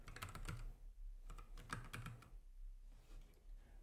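Fingers tapping a password into a computer keyboard, two quick bursts of close, quiet key clicks separated by short pauses, with no talking.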